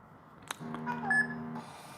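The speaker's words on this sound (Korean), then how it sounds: "카톡에 이제 소리가 났죠?" A KakaoTalk notification on a phone sounds a short electronic chime of a few quick tonal notes, faint and alone, after a card payment is cancelled on a KIS-8611Q wireless card terminal.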